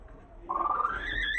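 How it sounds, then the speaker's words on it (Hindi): A broody hen sitting on a clutch of twelve eggs gives one drawn-out, rising, agitated call, fairly faint and alone against a quiet background. "बस मुर्गी गुस्सा कर रही है"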